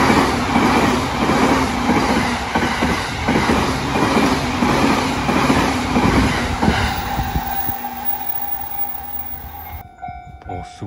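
A train rolls loudly past a JR Sobu Rapid Line level crossing, the only crossing on the Chuo-Sobu line, with rhythmic clickety-clack and rumbling wheels nearby that fade and cut off near the end.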